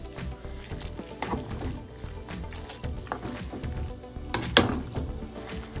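Chicken alfredo stirred in a pan with a spoon, soft scraping and sloshing with faint sizzling, several irregular knocks of the spoon against the pan, one louder clack near the end.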